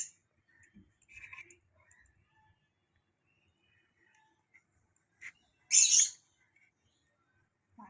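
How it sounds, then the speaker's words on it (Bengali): Birds calling outdoors on a rainy morning, with a few faint, scattered chirps and one louder, brief shrill burst near the end, alone and otherwise quiet. "পাখিগুলো এত চিৎকার করে"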